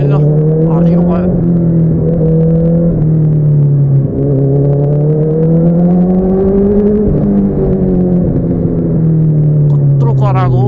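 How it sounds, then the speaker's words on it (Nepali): A Honda CBR motorcycle engine drones loud and steady throughout, its pitch swelling and dipping with revs, close to the listener, with a person talking over it. "कत्रो कराएको बाइक यार, कत्रो कराउँछ कि मलाई"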